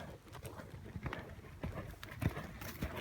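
A horse's hooves thud in a steady trot during a schooling session in German reins, with soft regular footfalls over a riding arena background.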